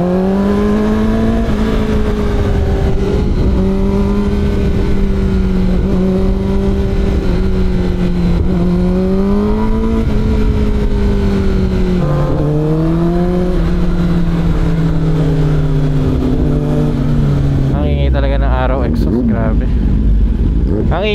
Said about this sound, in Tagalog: Ang ingay talaga ng motor mo?